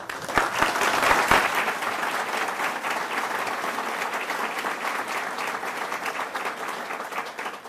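Audience applause at a congressional candidates' debate, loudest at the start and then holding as a broad, steady wash of clapping from a full hall.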